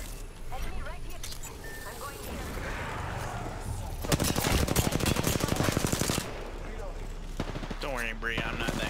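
Automatic gunfire in the battle-royale shooter Apex Legends, a dense rattling burst of rapid shots at the centre, set among game noise with a player talking over it.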